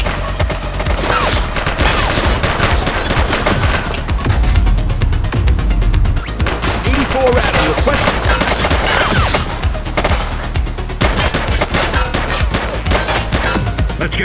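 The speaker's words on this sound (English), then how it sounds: "He's shooting!" Gunfire in The Precinct, a police video game, crackles in dense, continuous volleys of rapid shots with crashing impacts, loud and close throughout.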